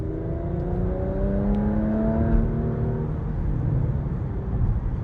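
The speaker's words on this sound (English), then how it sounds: "Like the exhaust is really impressive for an SUV" Inside a Porsche Macan GTS sport SUV under acceleration in Sport Plus mode, the exhaust gives a steady, rising drone and whir as the revs climb through the gears, with no talking.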